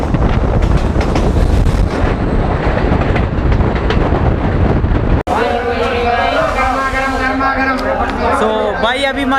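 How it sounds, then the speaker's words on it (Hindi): A train pulls into Kasara railway station, its loud steady rumble and wind noise giving way to squealing, ringing brake and wheel tones as it slows, heard from on board. "हमारी ट्रेन पहुंची है कसारा"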